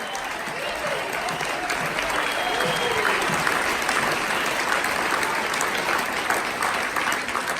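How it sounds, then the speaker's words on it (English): An audience at an awards program applauds, a loud, sustained wash of clapping from a large crowd that holds steady for several seconds, with faint voices mixed in. "Huge round of applause for the Senior Living Division."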